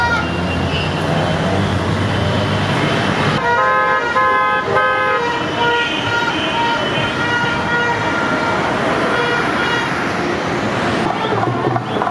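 Several car horns honk over and over in a dense, overlapping chorus beside Kandy Lake, Sri Lanka, loud and close, over steady traffic rumble and a murmuring crowd.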